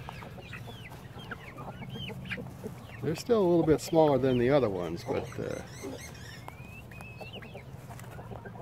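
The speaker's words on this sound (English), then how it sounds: "let's see if we can get an update on those teenage chickens again this week." Young adolescent chickens cluck and peep in scattered high calls in a Deep South Texas garden in mid June, with a burst of louder clucking in the middle, while a person talks nearby.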